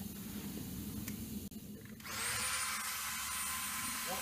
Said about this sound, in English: This tool's got one of the smaller burrs you can get for a Dremel.